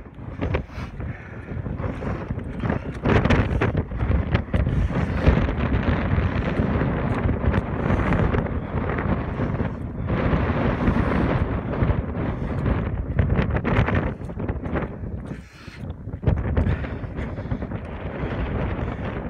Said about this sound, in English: Okay, windy up here now.